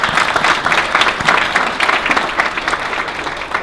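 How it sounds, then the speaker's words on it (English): Audience applause at a family business awards event, a full, dense round of clapping from a crowd, loud and continuous throughout. "Give them a round of applause, please."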